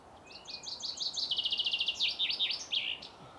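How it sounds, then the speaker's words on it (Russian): A small bird sings a quick, rapid trill of repeated high chirps that slide and tumble downward, clear and close against quiet surroundings. "Именно та же птичка, которую я неделю назад слышал"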